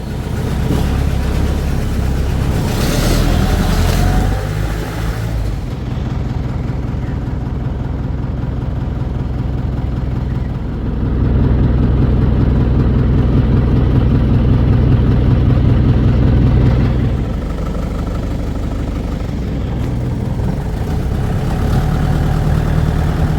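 A jeep engine runs close by with a steady low idle that rises into several louder revs and settles again, continuing throughout with someone speaking faintly at times.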